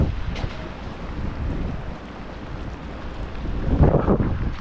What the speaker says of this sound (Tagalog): Lakas ho ng ulan.